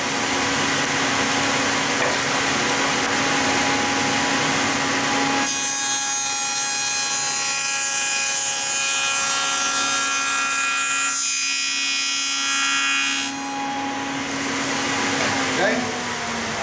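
Table saw cutting rabbets in drawer wood, a steady whining blade sound with a sustained cut in the middle stretch, then spinning down; loud and continuous throughout.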